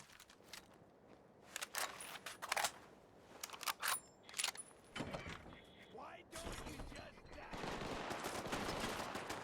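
A gun turret fires in Fallout 4, sending out a series of sharp, loud bursts with irregular gaps that give way to more continuous firing and clatter near the end.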